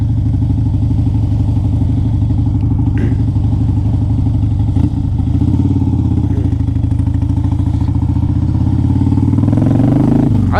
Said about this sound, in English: It's got a Screaming Eagle exhaust system.